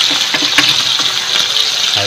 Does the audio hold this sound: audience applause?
no